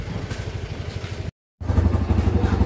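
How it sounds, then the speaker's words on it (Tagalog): A Barako motorcycle engine under overhaul runs with a rapid, knocking putter, briefly cuts out, then resumes louder and rougher. "Pakinggan muna natin yung andar ng Barako mga bossing"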